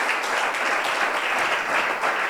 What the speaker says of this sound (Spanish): Démosle el aplauso al Señor entonces.